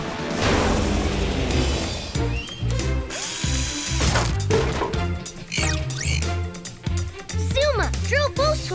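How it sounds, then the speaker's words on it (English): A cartoon power drill bores holes while the old landing pad is taken apart in a PAW Patrol rescue. It gives loud, continuous whirring and ratcheting bursts mixed with a busy music score, bright rising chirps and clattering effects. "Drill both holes over here."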